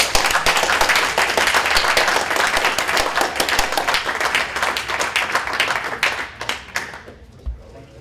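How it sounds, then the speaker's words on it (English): Audience applause at a UN Security Council Resolution 1540 student awards ceremony, dense sustained clapping that thins out and fades near the end, with a few final scattered claps. "So, Adrian, a big applause"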